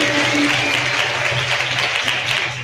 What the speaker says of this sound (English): clap for our dear father teacher